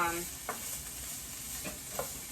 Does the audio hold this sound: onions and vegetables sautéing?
yes